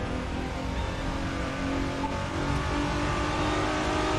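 A GTR V6 engine in the racing video game The Crew 2 drones continuously at steady, fairly loud volume, a sustained revving hum with no pauses.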